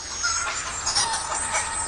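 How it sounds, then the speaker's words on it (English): In a radio drama, a dense flock of chickens clucks and squawks continuously. The sound sits close and busy, with overlapping calls and no speech. "Chickens! Turn into chickens!"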